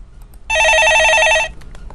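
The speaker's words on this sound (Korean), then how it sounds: "전화 받아보겠습니다" A telephone rings with an incoming call, one loud electronic warbling burst lasting about a second over quiet room tone, with no talking.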